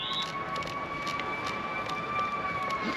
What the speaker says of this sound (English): I hear fire trucks and ambulances